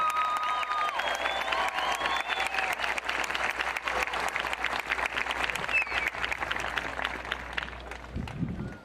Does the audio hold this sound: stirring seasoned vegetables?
no